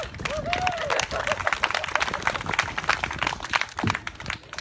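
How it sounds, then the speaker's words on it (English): A crowd at an outdoor rally to save Helen Mayo Park claps and cheers, scattered uneven applause with voices and a brief whoop near the start. "Give yourselves a round of applause."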